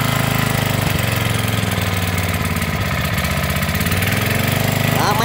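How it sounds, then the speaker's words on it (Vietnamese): The small engine of a Japanese mini water pump runs steadily nearby, a loud continuous mid-pitched putter at idle without pause. "giật máy nổ im ru nha cho bà con tham khảo luôn"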